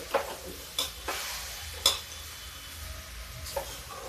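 Milk being stirred into a roasting mixture in a pan over low heat, a soft sizzle broken by a few sharp spoon scrapes and clinks against the pan, close and quiet, with no talking.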